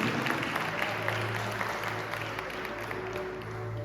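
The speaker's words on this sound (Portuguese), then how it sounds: "Aplauda o Senhor, dando toda a glória a Ele, em nome de Jesus." Church congregation clapping during a worship service, a continuous moderate wash of applause heard throughout with a faint musical hum beneath.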